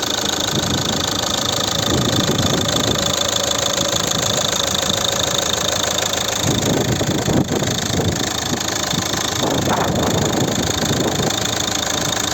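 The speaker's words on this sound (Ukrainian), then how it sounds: "Робота двигуна." A 2008 Volvo V50 2.0 diesel engine idling up close with the bonnet open, a loud steady rumble with a rattly knock, running continuously with no talk.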